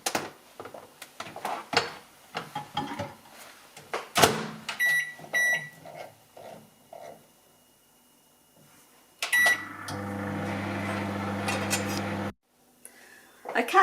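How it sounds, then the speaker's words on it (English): Microwave oven on full power cooking risotto, preceded by clattering, a door closing and several beeps from the control panel, then a steady loud hum with a low drone that cuts off; light talk is heard earlier. "all the time that I'm putting this into the microwave, it's on full power"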